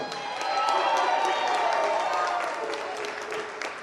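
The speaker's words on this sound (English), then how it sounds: "Can you make some noise for the 12U Green Squad?" At an all-star banquet, the crowd claps and cheers for the 12U Green Squad in a loud, continuous roar of applause with shouting mixed in, peaking near the middle before tapering a little.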